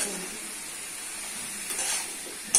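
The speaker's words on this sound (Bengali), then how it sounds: "শুটকি মশলার সাথে চিংড়ি শুটকি ভালো করে কষে নিতে হবে।" Dried shrimp is stir-fried with spice paste in a pan. It gives a steady close hiss of sizzling oil and a faint scrape of stirring near the end.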